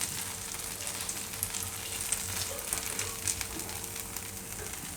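Jowar pizza cooking in a pan with ghee over a very low gas flame, a soft steady sizzle with light crackles, fairly quiet and continuous with no voices.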